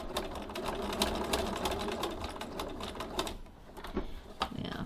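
Sewing machine stitching a diagonal line across an adjustable tote bag strap, a steady rapid whirring chatter of the needle that slows briefly near the end, close and alone.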